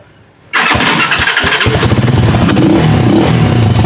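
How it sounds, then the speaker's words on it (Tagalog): A motorcycle engine with a reported fault of banging on startup cranks and fires abruptly after a moment of near silence, then settles into a loud, close, steady idle with a fast, even pulse and no clear backfire bang. "So try natin i-start kung may lalagapak."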